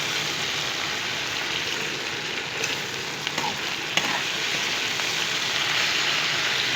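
Okra and potatoes sizzling in hot oil in a pan for a spicy sabzi, a steady close crackle and hiss with a few sharp clicks of stirring, no talk.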